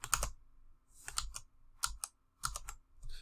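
Computer keyboard typing in short clustered bursts of crisp key clicks with brief pauses between, close and clear, as an expression is entered into CAS math software; no voices.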